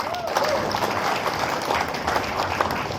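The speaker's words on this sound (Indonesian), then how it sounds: "Tepuk tangan dulu tuh." An audience breaks into sustained, dense applause at a seminar, the crowded clapping steady and fairly loud, with voices mixed in.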